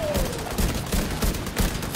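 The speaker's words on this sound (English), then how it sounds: "Stop shooting at me." Gunfire in the video game The Division 2: a dense, continuous fusillade of rapid shots that stays loud throughout, with no clear talking.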